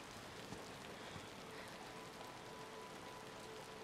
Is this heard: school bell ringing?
no